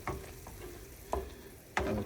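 High-fat ground beef fries in a pan with a steady close sizzle, broken by a few sharp scraping stirs.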